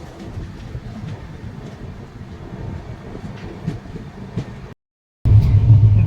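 The Digha-Visakhapatnam Express runs along the track nearing Visakhapatnam, heard from inside as a steady low rumble with faint rhythmic rail clicks. The sound cuts out briefly, then returns louder and heavier.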